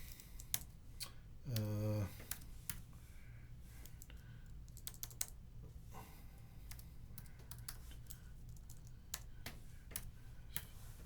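Keystrokes on a computer keyboard while entering math into an internal email system, soft scattered clicks running throughout at low level, with one brief louder buzzing burst near the start.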